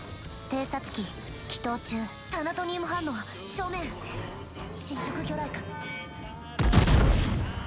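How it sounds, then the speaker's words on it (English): Video game gunshots boom and crack in short bursts, with a louder barrage near the end, mixed in with a game's musical tones and voices. "Okay, shots fired."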